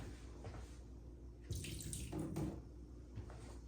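Water is poured off a pot of tomato jars during tomato sauce making, heard as a faint, continuous splashing trickle that swells briefly midway, with soft clatter, against a steady background hiss.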